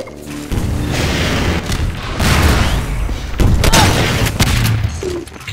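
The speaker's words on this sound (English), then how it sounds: "Oh my god, they have RPG." RPG rockets explode in the Half-Life 2 Deathmatch game, with a series of loud booming blasts and crashes following one another over a few seconds, with no talk.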